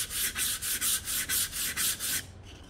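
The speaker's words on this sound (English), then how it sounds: "So to avoid that, we can just put that chamfer on here." Sandpaper rubs a chamfer onto the edge of a wooden pencil box in about nine even back-and-forth strokes, close and crisp, before stopping near the end.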